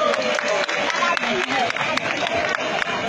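An audience at a French-language political gathering in Anono claps in a dense, continuous burst, with a voice speaking over the applause throughout.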